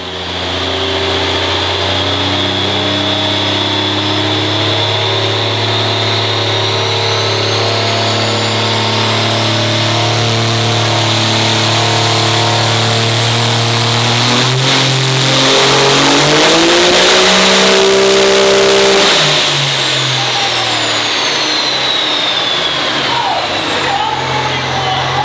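A 1972 car engine revs hard on a dyno, a loud, close drone climbing steadily in pitch for about fifteen seconds, peaking, then dropping sharply as the throttle closes.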